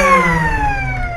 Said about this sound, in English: I don't think we're going to get another possession out of this before the siren will go